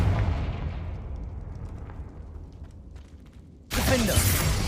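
Incendio, the fire spell in Hogwarts Legacy, throws out a rushing, crackling burst of flame that roars loud, thins slowly over several seconds, then gives way to a sudden harsh new blast near the end.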